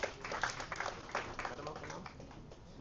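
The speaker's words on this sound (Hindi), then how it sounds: "जोरदार तालियां इनके लिए" Audience applause at a school annual prize distribution and elocution competition, a brief patter of clapping from a modest crowd in a hall, under a speaker's voice.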